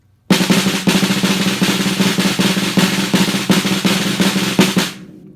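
Sustained, buzzing snare drum roll with sticks bouncing rapidly off the head, steady and loud for about five seconds, then stopping.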